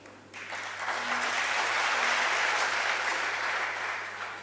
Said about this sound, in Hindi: ताली बजाने का यह समय नहीं है।